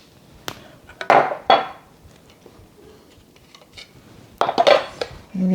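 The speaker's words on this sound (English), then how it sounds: "You have to scrape it with the spatula." A spatula scraping lilikoi butter from a pan, several short loud metallic scrapes and clanks in two clusters, separated by a quieter pause.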